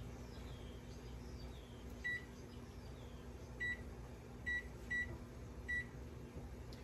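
A kitchen timer is being set while broccoli blanches, giving five short electronic beeps spaced irregularly over a low, steady background hum, with no talking.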